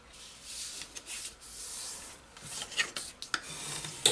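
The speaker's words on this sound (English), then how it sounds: "And burnish with your bone folder." Bone folder burnishing a paper crease, soft faint rubbing strokes that grow into quicker scraping passes near the end, close and quiet.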